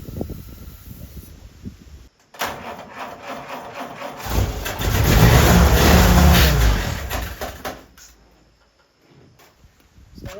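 A carbureted Jeep engine running on starter fluid cranks, catches and roars up loudly, holds a few seconds at high revs, then fades back down, with short pauses and scrapes around it.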